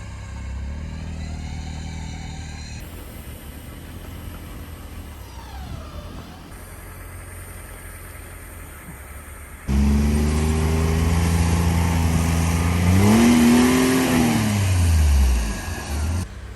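A 4x4 reverses up a snowy hill, its engine running at a moderate level before surging louder into a labored, revving roar that rises and falls near the end, with no talking.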